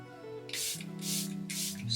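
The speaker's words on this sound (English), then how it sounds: "I'm gonna go in and spray my face." Setting spray mists onto a face in three distinct hissing bursts, each about a third of a second long, close and fairly loud, with soft tonal sound underneath.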